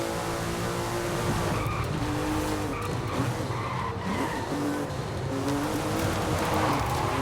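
A Porsche drifts in Forza Horizon 5, tires squealing and skidding continuously over a loud revving engine, with no pauses.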